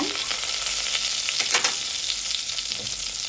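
Butter, spices and raisins fry in a pan with a steady, close sizzle while a spoon stirs through them, giving brief scraping bursts.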